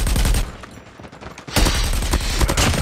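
Rapid automatic gunfire in the shooter game Call of Duty Mobile, loud and dense bursts that dip briefly before a heavier barrage resumes, with no talking.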